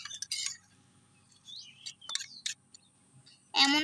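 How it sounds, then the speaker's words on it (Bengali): Egg being cracked against a bowl while making an omelette, with a few sharp clinks and taps of shell on the bowl edge spaced across a quiet moment, ending in a louder clatter. "এবার ডিমটা ভেঙে দেব"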